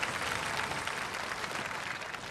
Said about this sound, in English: Ladies and gentlemen, give them both a round of applause!